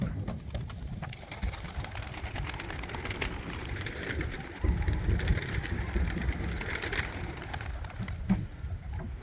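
Pigeons mumbling inside a tippler loft in Juana Díaz, Ponce, Puerto Rico, a low steady cooing murmur from many birds close by, with rustling and occasional louder bumps throughout.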